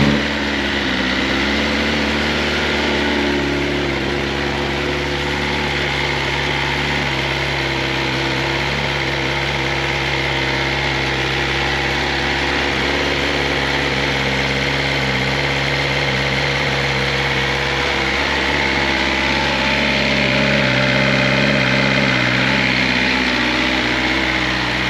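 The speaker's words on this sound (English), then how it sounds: "let me fire this thing up. I still haven't got the exhaust done yet" A BMW S 1000 RR sport motorcycle idles steadily with no exhaust fitted, giving a loud, continuous, close-up engine drone that stays even for the whole stretch with no talk over it.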